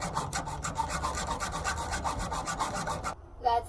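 A bolt on a pontoon being sawn off by hand gives rapid, even rasping strokes, close and steady for about three seconds, then stops abruptly.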